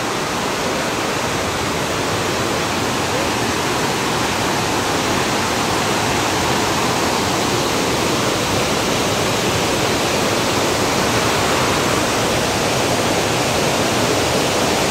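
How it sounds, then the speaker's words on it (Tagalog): Loud, steady roar of rushing water echoing inside a cave beneath a large floating house, a dense unbroken wash of sound filling the whole stretch with no voices over it. "Ang ingay ng tubig."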